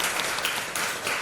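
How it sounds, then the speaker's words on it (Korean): A church congregation gives a short round of welcoming applause for a visiting missionary, a soft, fairly distant patter of many hands clapping. "이 시간 우리 환영의 박수로 함께 생각하겠습니다."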